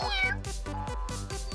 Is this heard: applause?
no